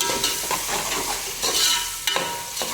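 Ginger and garlic fry in a pan, a continuous close sizzle broken by scraping stirs and a sharper clank or two of the spoon against the metal; no one speaks.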